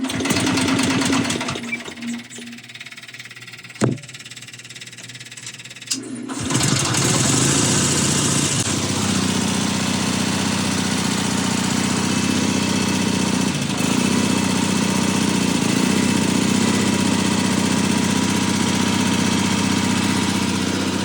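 A mini excavator engine cranks and catches at around six seconds after a few quiet attempts, then settles into a steady, loud, close diesel idle that runs on without a break.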